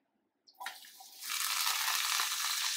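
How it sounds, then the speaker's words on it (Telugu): Ridge gourd pieces drop into hot oil after a moment of quiet: a soft splash, then a bright, hissing sizzle that swells and holds steady up close. "ఇప్పుడు ఇదే ఆయిల్లో మనం బీరకాయలు వేసుకుందాం."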